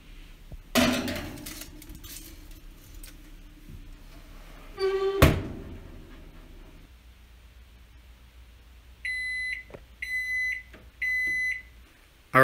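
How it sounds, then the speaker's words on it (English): A kitchen timer goes off while venison meatloaf bakes in an oven, three short bursts of loud electronic beeping in a regular pattern, after a couple of earlier clunks and knocks in a quiet kitchen. "our timer went off"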